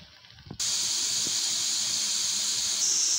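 Potato pieces cut into small chip shapes frying in hot oil, a loud, steady, close hiss of bubbling oil that starts abruptly and carries on without a break.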